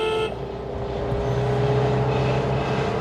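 A small car climbing a hill road in second gear, the engine humming steadily at close range with road rumble and no talk.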